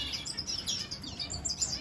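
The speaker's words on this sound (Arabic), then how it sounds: "موجوده داخل هذا القفص المحمي بالطيور الفينيشات" Finches chirp inside a protected aviary cage, with many small high tweets overlapping in a busy, continuous chatter close by.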